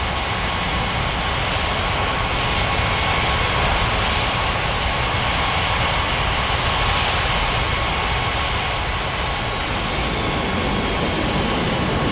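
A commercial airliner on approach and landing in an air traffic control simulation game, heard as a steady, loud broadband jet engine roar that holds constant throughout with no talking.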